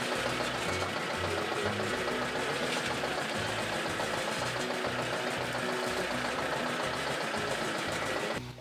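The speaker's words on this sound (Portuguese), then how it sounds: "Como opera na lenta, na maior parte do tempo, na segunda marcha, a máquina gasta cerca de 1 litro de óleo diesel por hora." A diesel tobacco harvesting machine runs slowly in second gear, giving a steady, close mid-pitched engine drone with mechanical rattling and vibration that holds evenly throughout before dropping off at the very end.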